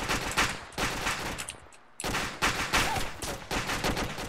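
Dense suppressive gunfire rattles through a tactical shooter game, rapid overlapping bursts with a brief lull before the volleys resume, loud and close.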